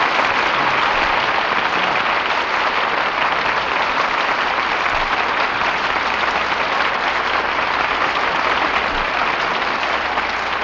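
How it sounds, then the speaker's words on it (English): A radio theater studio audience applauds steadily and loudly for a 1949 Lux Radio Theater curtain call, a dense unbroken wash of many clapping hands with no voices. "Your applause calls tonight's stars back to the footlights"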